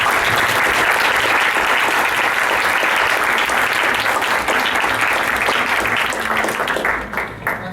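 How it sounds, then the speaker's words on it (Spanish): An audience at a book fair event in Monterrey breaks into strong applause to open a ceremony, loud and close, keeping up dense clapping before thinning out and fading near the end. "pedirles un fuerte aplauso para iniciar esta ceremonia"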